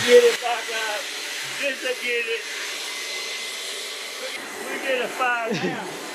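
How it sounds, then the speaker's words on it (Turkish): A hair dryer runs continuously with a loud, steady airy whoosh. People talk over it in several short stretches. "Saç kurutma makinesiyle uğraşıyoruz ya."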